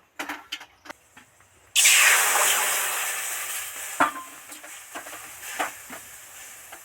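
A little water splashes into a hot wok on a lit stove and bursts into a loud sizzling hiss that slowly fades, with a few soft taps and clicks scattered around it.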